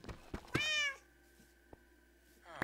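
Cats meowing in the Minecraft video game, a couple of short, close, clear meows with a tonal sweep, over quiet game sounds.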